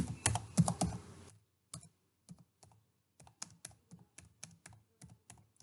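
Rapid keystrokes on a computer keyboard while typing code, with a dense burst of clicks followed by sparse, irregular taps, close and quiet.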